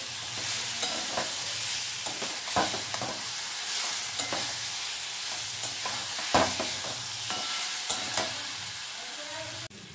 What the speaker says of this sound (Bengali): এবার কিন্তু এই যে ভেজে রাখা আলু পটলটা এর মধ্যে দিয়ে ভালো করে কষিয়ে নেব